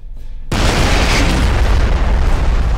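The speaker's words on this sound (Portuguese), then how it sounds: "Olha lá, ó, a explosão, que legal." A heavy video-game explosion in F.E.A.R. bursts in suddenly with a loud, roaring blast that keeps rumbling and crackling for a couple of seconds.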